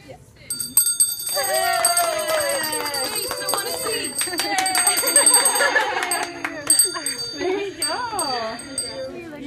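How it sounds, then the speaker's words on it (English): A bell is rung in celebration, bright ringing strokes repeating over several seconds. Excited voices and cheering overlap the ringing close by. "open your eyes and ring the bell, and we're all going to celebrate"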